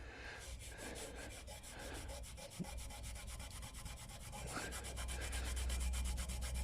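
Steady rubbing of polish on a chrome motorcycle exhaust to lift tar spots with Autosol, a continuous close scrubbing sound with repeated strokes throughout and no talking.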